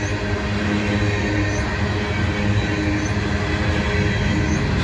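Loaded coal train cars roll steadily past up close, with wheels bearing flat spots, producing a loud, continuous rumbling clatter with no break and no voices.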